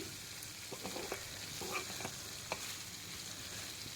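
Taro curry with dried mango being stirred in a pan makes a quiet, soft sizzle with light scraping strokes, faint and steady.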